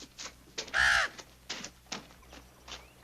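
A pet bird in an Old West ranch house gives a loud, harsh caw after being let out of its cage, set among several softer scattered clicks and squawks, with no talk.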